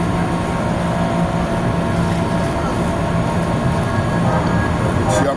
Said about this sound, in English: Oh, that's the train.